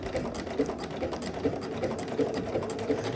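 A sewing machine runs steadily in reverse, backstitching along a swimsuit seam, its rapid needle rhythm close and even for the whole stretch with no talk.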